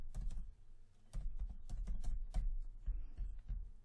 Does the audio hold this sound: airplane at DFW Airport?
no